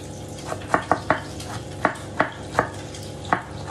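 A knife chopping onion finely on a board, about nine crisp irregular taps close by over a faint background hum, with no talking.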